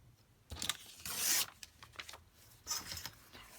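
Paper being torn by hand for a homemade journal: a few short, close ripping bursts with a brighter, longer tear in the middle, separated by quiet rustling and handling.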